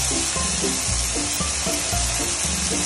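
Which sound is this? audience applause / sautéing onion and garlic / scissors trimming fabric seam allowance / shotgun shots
sautéing onion and garlic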